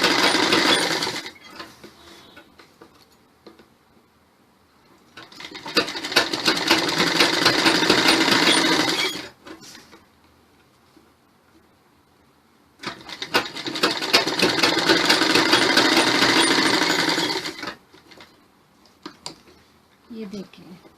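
A sewing machine stitches a buckram cloth strip onto the waistband of a belted salwar in two long, loud, steady runs of rapid needle clatter, with quieter gaps between where a person talks.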